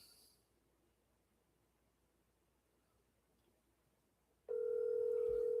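A telephone tone sounds while a friend is being phoned: a faint quiet line gives way abruptly to a loud, steady electronic dial tone that continues to the end.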